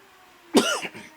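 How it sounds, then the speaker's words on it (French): A single short cough, close and fairly loud, with a softer trailing rasp afterward in an otherwise quiet room. "Laissez-moi tousser."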